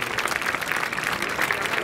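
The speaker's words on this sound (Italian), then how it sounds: "siete perdonati solo se fate un grande applauso per Clarissa Capovilla, Miss Città Murata 2015" Audience applause at a Miss Città Murata beauty pageant: a dense, steady burst of crowd clapping that lasts about two seconds at an even level, with no pauses.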